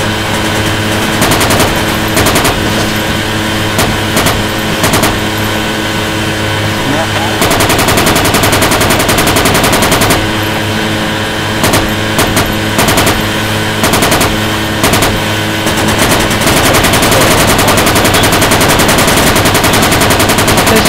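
Machine gun fire in the Project Reality infantry game: loud, sustained rapid bursts with short pauses between them, near and dominant throughout, with team voice chat faintly underneath.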